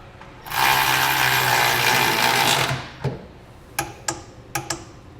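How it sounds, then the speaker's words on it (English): A short hex bolt is run into a threaded hole with a power tool, giving one loud, close buzz of about two seconds, followed by several sharp, separate clicks. "Now we'll take one of the shorter hex bolts that comes in our kit and install it in this threaded hole right here."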